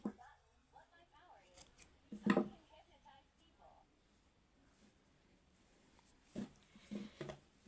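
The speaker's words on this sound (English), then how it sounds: "Then I'll cut the yarn." Scissors cut through crochet yarn in a quiet room: a faint, crisp snip near the start and a couple of softer snips later, with little else around them.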